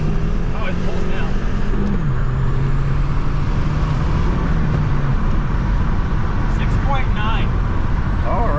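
A 2013 VW Jetta GLI with a stage 1 tune accelerating hard, a loud constant engine roar heard from inside the car while people talk over it.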